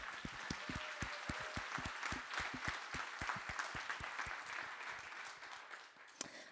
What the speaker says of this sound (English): I just want to give a big round of applause to our Board of Directors